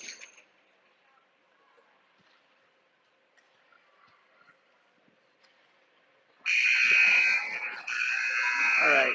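Arena buzzer at an ice hockey game, a loud, sustained harsh electronic blare sounding after several quiet seconds of faint rink ambience, with a brief dip partway through.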